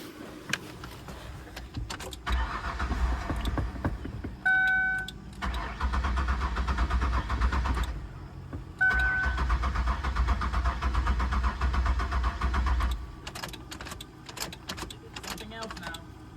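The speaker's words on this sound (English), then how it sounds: "let's see if we can get the van started." A van's engine, fouled by bad gasoline, cranks repeatedly in long grinding stretches with brief pauses between attempts, never catching, with a few clicks and faint background sounds.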